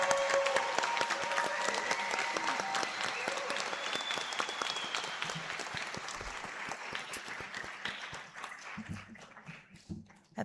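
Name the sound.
audience applause for incoming nursing class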